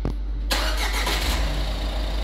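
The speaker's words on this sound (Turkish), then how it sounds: "Çalıştırın aracı." A Renault Captur car engine cranking and catching after a brief silence, then settling into a steady low idle, close and loud, with no talking.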